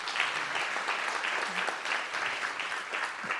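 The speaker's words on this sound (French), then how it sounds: "Je vous demande de l'applaudir bien fort." A conference audience applauds at a panel event, steady dense clapping filling the room from start to finish without pause.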